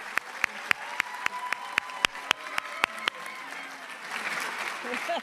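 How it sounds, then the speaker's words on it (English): An audience at a Board of Education meeting claps, first with sharp separate claps at a steady beat, then swelling into a broader wash of applause. "Please join me in giving them a round of applause."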